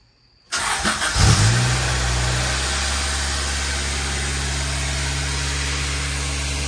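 A Honda B-series car engine cranks and catches after a brief quiet moment, revs up loudly, then settles into a steady, close idle that continues to the end.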